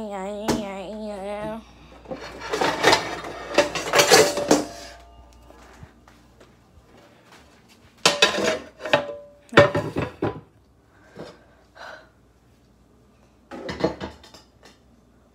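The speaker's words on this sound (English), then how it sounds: "is get the pan. Get the pan." Metal pan taken out and handled in a home kitchen while making eggs, giving a few scattered clanks and scraping knocks in short bursts, fairly close, with quiet pauses between and a high tonal sound at the start.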